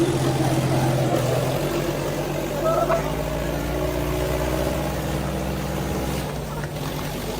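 Mahindra Thar and a Mahindra tractor locked in a tug-of-war, their engines droning steadily and loudly throughout with a low rumbling hum that shifts slightly in pitch as they strain.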